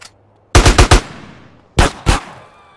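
Gunfire in Grand Theft Auto San Andreas: a fast burst of four loud close shots, a pause, then two more sharp shots, each ringing out briefly, with no talk over them.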